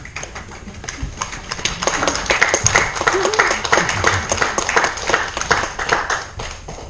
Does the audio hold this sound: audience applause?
yes